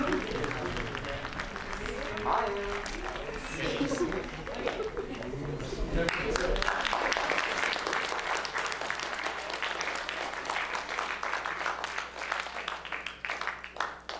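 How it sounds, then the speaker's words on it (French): An audience bursts into applause for two event hosts at a ceremony, with murmuring and chatter first, then steady, loud clapping filling the room for the remaining seconds. "On peut applaudir Zacharia et Jérémy."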